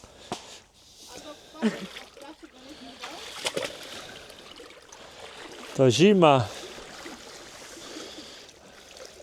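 Cold water splashes and trickles outdoors during work harvesting reeds for mason bees, scattered close splashes and a faint running stream under talking and a brief vocal whoop.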